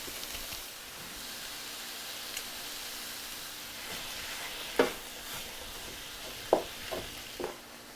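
Ground beef and half a large diced onion fry in a pan for lasagna with a soft, steady sizzle, broken by a few sharp scrapes and clicks of stirring.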